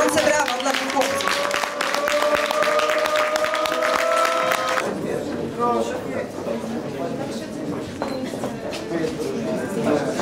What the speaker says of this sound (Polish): Gorące brawa dla tych chłopców